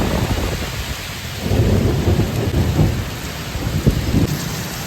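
Rain pours steadily during a storm with hail falling, while deep thunder rumbles and swells partway through, loud and close with no voices.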